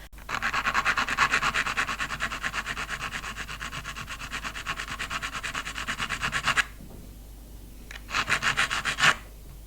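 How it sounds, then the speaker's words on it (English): Steady rhythmic rasping of a metal file scraping back and forth on guitar frets, close and continuous, pausing briefly before a final short burst of strokes. "I'm going to now just do a little bit of cleanup work with a metal file"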